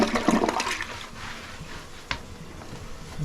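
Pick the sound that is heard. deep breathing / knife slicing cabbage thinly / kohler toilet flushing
kohler toilet flushing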